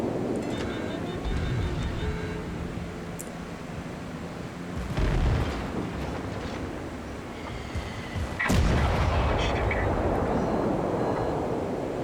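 Naval gunfire in World of Warships with a battleship salvo fired at an enemy Montana: booming blasts and rumbling low roars around five and eight and a half seconds, over a continuous engine-like drone with no talking.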